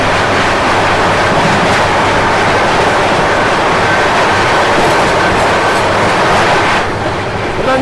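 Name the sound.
Ranthambore Express train passing at a crossing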